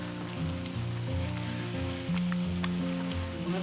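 Cabbage burger meat frying in a pan gives a continuous moderate sizzle with light crackles over a backdrop of steady tonal music, and no voices.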